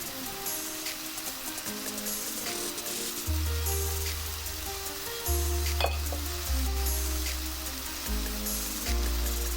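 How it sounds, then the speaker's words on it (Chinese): Diced shiitake mushrooms and potatoes stir-fried in a hot wok make a continuous loud sizzle with light scraping stirs under a low, steady musical backing. "翻炒均匀"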